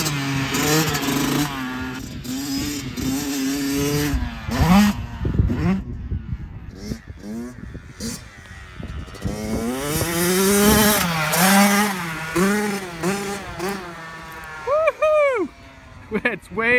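A 2022 Kawasaki KX112 dirt bike engine revs and climbs through gears while ridden, a nasal buzzing whine rising and falling in pitch, with people talking over it throughout.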